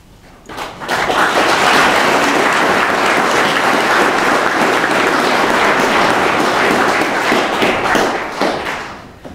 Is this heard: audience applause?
yes